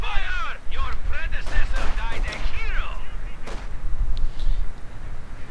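An incendiary artillery barrage in Company of Heroes 2, loud repeated blasts and crackling impacts mixed with whistling shells, with a voice talking over the battle.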